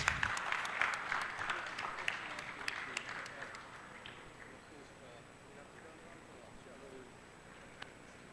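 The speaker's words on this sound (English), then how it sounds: "Let's have a round of applause." An audience at a military literature festival applauds, a quick run of claps that starts out loud and fades over several seconds into a quiet hall with faint talk.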